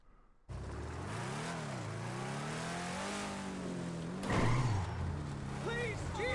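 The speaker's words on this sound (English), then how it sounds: "Let's hear what the engine sounds like." A car engine in GTA revs loudly and steadily, its pitch rising and falling in drawn-out sweeps, with a sharp surge near the end and a brief squeal over the idle.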